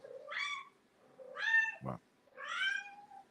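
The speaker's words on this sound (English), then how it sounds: "And then he throws the cat, and then the cat is pissed." An angry cat yowls after being thrown, giving three drawn-out, wavering cries with short pauses between them and a dull thump just before the last one.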